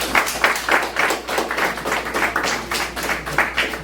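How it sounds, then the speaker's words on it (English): Applause from an audience at a career signing day ceremony, a steady wash of many hands clapping with dense, fairly loud rhythmic claps throughout, no talking over it. "So give yourself applause."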